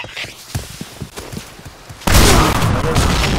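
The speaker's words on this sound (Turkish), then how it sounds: "Dikkat, bomba atıyorum." A grenade is thrown and then explodes in the Point Blank video game: scattered light thuds and clicks give way to a sudden loud blast that keeps rumbling on as a dense, sustained roar.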